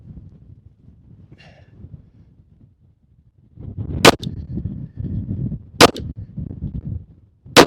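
Three sharp, loud pistol reports from a Rock Island Armory FS Tactical 1911 fired outdoors on a windy day, spaced a second or two apart over a steady low wind rumble.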